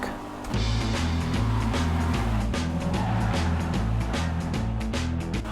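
A car in the GTA video game accelerating hard, its engine rising and stepping through gears in a loud, sustained revving roar that starts abruptly and holds to the end.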